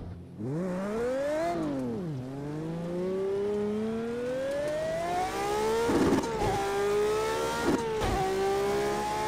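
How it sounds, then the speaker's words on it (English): Racing car engines in the video game Project Cars 2 rev and climb through gears, a loud continuous whine that rises, dips at a shift, then builds steadily, with brief bursts of rumble near the end. "Incredible sounds of these cars."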